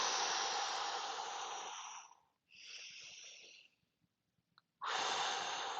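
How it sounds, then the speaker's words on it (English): Slow, deliberate breathing during a breathing exercise demonstration: a long, loud rushing inhale, a pause, a softer breath, then another strong airy breath, heard close up with no talking. "And then I'm going to breathe."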